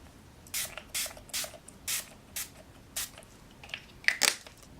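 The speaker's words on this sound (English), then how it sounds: "So I usually just spray about 5 spurts of this." A facial mist spray bottle spritzes in quick successive bursts, about seven short hissing puffs, close and distinct with brief pauses between them.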